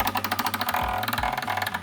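A dull lathe tool turns against a spinning wooden pen blank, producing a fast rhythmic chattering rattle with regular pulses, close and moderately loud.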